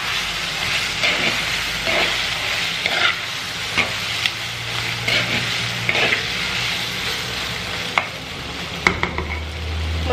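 Mutton sizzles and fries in a pan while a utensil stirs and scrapes against it, a steady loud hiss broken by repeated clanks and knocks.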